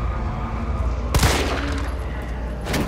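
Gunfire from a handgun aimed at a zombie in Resident Evil 3 Remake, one sharp loud shot followed by a quieter burst near the end, over a low ambient game background.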